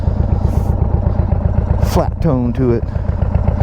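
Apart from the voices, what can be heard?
rattling loose exhaust on idling 2022 Indian Chief motorcycle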